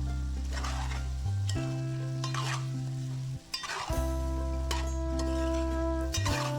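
Ginger being stirred into gongura chicken curry sizzles in a pan, with scraping stir strokes over a strong, steady low hum, close and continuous, no talk.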